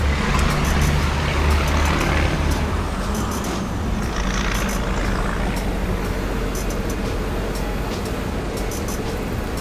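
Cabin of a 2019 Ford F-250 King Ranch pickup while driving, a steady low road and engine rumble with tire hum filling the whole stretch at constant loudness, light rattles above it.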